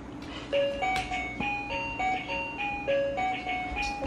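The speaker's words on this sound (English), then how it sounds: "dancing to the song of his bus" A VTech Playtime Bus toy plays an electronic melody of bright beeping tones in a bouncy, steady rhythm, fairly close and moderately quiet, with faint room noise beneath.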